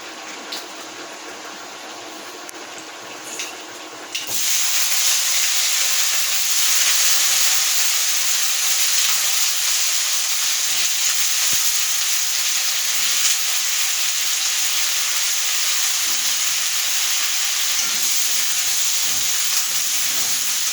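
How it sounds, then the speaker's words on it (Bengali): Diced potato and pumpkin hit hot oil spiced with panch phoron, setting off a loud, steady, broadband sizzle and hiss that runs unbroken after a quieter start. "এবার এটাকে আমি একটু লাল লাল করে ভাজতে থাকবো"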